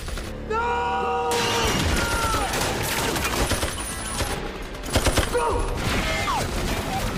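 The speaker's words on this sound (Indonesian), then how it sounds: "Gabe pun menyerang balik dengan menembaknya secara beruntun" Rapid bursts of gunfire in a film shootout, dense volleys of shots crackling over tense score and effects, loud and continuous with sharper clusters near the end.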